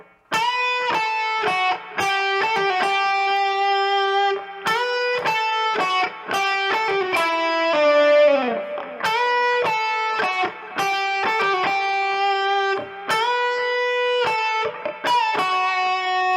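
A distorted electric guitar plays a full riff section up to speed, a steady, driving stream of picked notes with brief gaps and a mid-section bend, loud and continuous with no voices.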